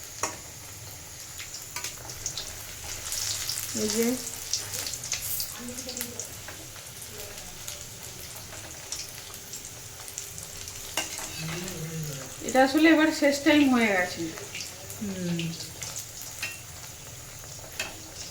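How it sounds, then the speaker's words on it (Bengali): Peas-filled kachori frying in a wok, a steady low sizzle and crackle of oil running throughout while people talk over it at intervals. "কড়াইশুঁটি কচুরি এবার ভাজা হচ্ছে"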